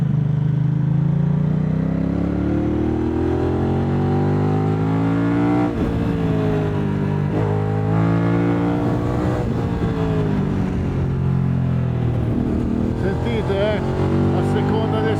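A Moto Morini X-Cape 1200 motorcycle engine pulls hard up to about 7000 rpm, its pitch climbing and dropping through gear changes in a loud, continuous drone with someone talking over it throughout.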